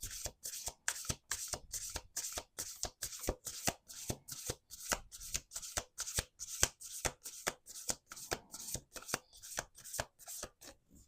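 A deck of tarot cards being shuffled over and over, crisp riffling bursts in a steady rhythm, close and clear with no talking.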